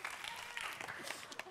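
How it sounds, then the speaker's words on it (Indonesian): Applause for a candidate pair at a regional election debate, a short, faint burst of crowd clapping heard from a distance. "Silakan berikan tepuk tangan untuk pasangan calon nomor urut 3"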